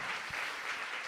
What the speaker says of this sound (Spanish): Aplauda al Señor, apláudale a Él